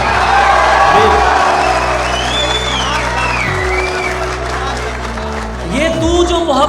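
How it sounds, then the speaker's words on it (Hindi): Audience at an Urdu poetry mushaira clapping and cheering with whoops and shouts, loud and sustained, while voices call out over the crowd and a strong swell comes near the end. "आपके लिए बहुत सी तालियां यार"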